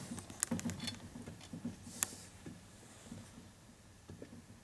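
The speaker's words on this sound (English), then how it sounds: "A little click. That's our clearance." Roller bearings in a 1992 Harley FXR Evolution 88ci engine case give faint, light clicks and ticks as the flywheel is turned by hand, quiet and close with soft rustling between.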